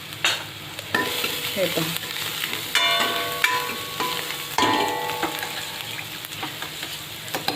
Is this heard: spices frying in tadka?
yes